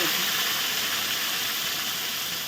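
A paste of ground poppy seeds, nuts and raisins goes into hot oil tempered with cardamom and cinnamon, giving a steady close hissing sizzle that holds evenly throughout.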